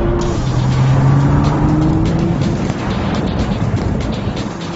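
A Nissan GT-R pulls hard under acceleration, its engine roaring loud and close with a steady, rising drone and some road and tire noise mixed in, and no one talking.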